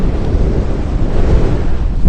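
Wind sweeping across a snow-covered beach in Rhode Island after a March 2018 snowstorm, a steady, dense roar buffeting the microphone up close for the whole stretch, with no voices.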